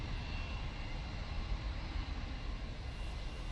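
An aircraft arriving at Manchester Airport in wet, windy weather, heard as a steady broadband engine roar that holds fairly level throughout, with no voices.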